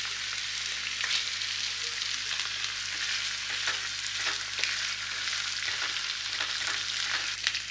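Small pieces of chopped tomato fry in a pan for steamed egg curry, giving a steady close sizzle with scattered crackles and occasional stirring scrapes, no voices.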